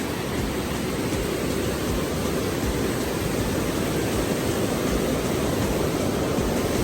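A swollen mountain river on a Himalayan trek rushes in a dense, steady roar of broadband water noise, loud and unbroken throughout with no voices.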